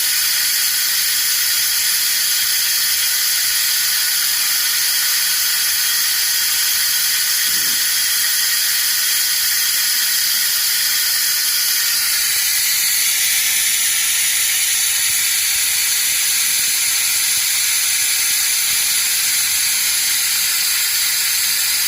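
A vacuum pump drawing vacuum on a 2001 Ferrari 360 Spider's cooling system gives a loud, continuous high-pitched hiss and mechanical whir, running steadily with a slight shift in tone midway.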